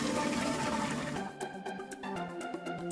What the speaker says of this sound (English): continues to fill the wine jars with water